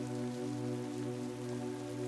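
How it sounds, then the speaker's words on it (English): Rain falls in a steady soft hiss, held beneath a sustained, gentle musical drone that runs throughout. "it rains and rains and rains"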